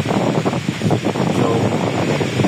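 Wind gusts and sea waves roll at the shore near a small boat. The noise is loud and constant, a broad rush with irregular surges and buffeting against the microphone.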